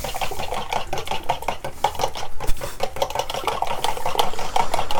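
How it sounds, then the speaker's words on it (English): Cream being whisked into a quiche mix of eggs and cream, with fast, continuous metallic scraping and clinking against a bowl, steady and close throughout, with no talking. "And then whisk that together."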